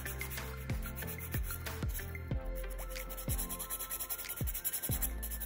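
A regular nail file rasps across fingernails in a series of close, quiet, rhythmic scraping strokes, about a dozen passes speeding up toward the end.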